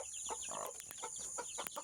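A mother hen clucks in a quick series of short, bright calls, fairly faint and close, with soft background hiss.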